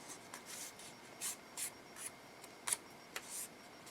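Paper craft piece being folded down the center, heard as quiet, close paper rubbing and creasing in short separate swishes spread across the moment, with no voices.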